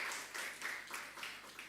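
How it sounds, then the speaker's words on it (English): Applause from an audience at a young leaders' forum in London, a fairly faint, steady patter of hand claps that swells slightly in waves and continues without break. "Please give him a huge round of applause."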